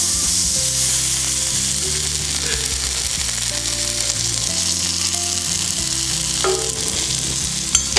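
Sankara fish fries in oil in a pan over a low flame, with a constant bright sizzling hiss and occasional stirring clinks, heard close and loud against soft background music.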